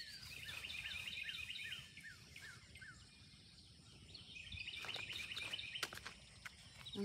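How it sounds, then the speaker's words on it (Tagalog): Small birds chirp and trill in a garden, repeated high twittering phrases heard at a moderate distance over a steady low outdoor hum, with no talk. "Ang sarap pakinggan yung mga huni ng ibon."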